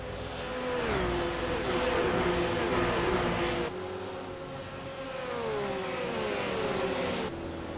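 Supercars racing at Phillip Island, their engine notes rising and falling in pitch as they pass, in two loud sustained waves heard from trackside.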